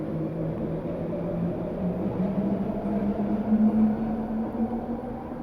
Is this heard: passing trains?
yes